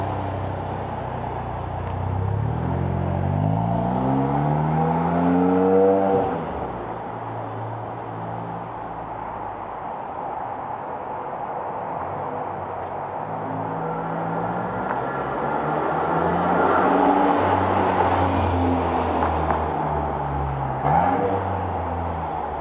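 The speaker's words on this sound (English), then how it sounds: "The loud exhaust system is just purely for the driver. Let's go up and down and see what it sounds like." Volkswagen Golf GTI Mk7.5 with a valved exhaust, the engine revving and accelerating through rising gear pulls, dropping at a shift, then droning steadily and building again, loud and close with no talk.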